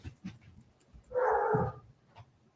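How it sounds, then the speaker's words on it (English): A dog gives a short burst of agitated whimpering and barking in the middle, fairly close, with quieter low rumbles and faint noises before and after. "the dog's going crazy"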